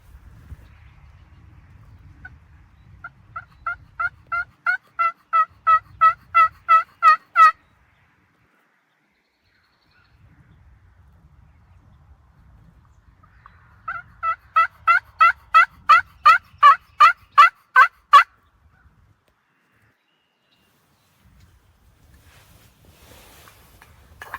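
A wild turkey tom in a Michigan field calls in two separate runs of rapid, rhythmic notes that build in loudness, heard clearly over a quiet outdoor background with long pauses between.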